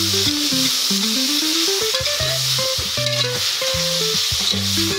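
Ingredients fry and get stirred in a pan for a simple Tamil bachelor's morning dish, with a steady sizzle and scraping stirs under a melodic background music track the whole time.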